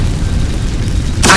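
A low booming burst from the Incendio fire spell in Hogwarts Legacy, a steady rumbling roar followed by a sharp bright flare at the end, loud and alone.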